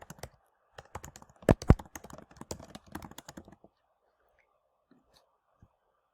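Typing on a computer keyboard, a quick run of close, crisp key taps with a couple of louder strokes, then quiet with a few stray clicks.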